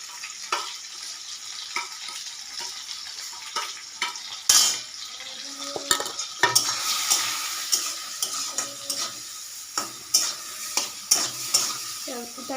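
Bori jhal frying and being stirred in a kadai, with a spatula scraping and clinking against the pan in irregular strokes over a soft sizzle. A splash of water hisses partway through, and the stirring continues close and moderately loud.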